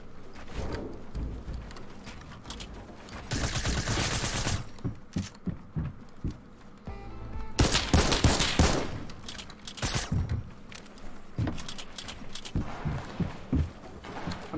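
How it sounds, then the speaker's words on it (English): Infantry rifle gunfire in the video game Fortnite, loud bursts of shots in rapid volleys with short pauses between, up close and dominating, no talk over it. "I love this infantry rifle."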